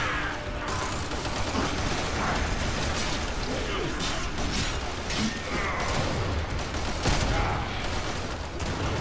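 Gunfire in the Warframe video game sounds as dense, sharp bursts over a busy, noisy mix of game effects, with a player talking over the action.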